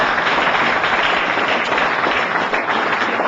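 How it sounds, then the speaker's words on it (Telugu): An audience applauds Sri Venkateswara Swamy with a dense, steady round of clapping from many hands, loud and sustained, with no voices. "Please give very big clap to Shri Venkateswara Swamy."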